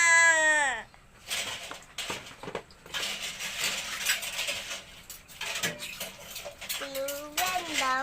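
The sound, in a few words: washing dishes, plates, glasses and pots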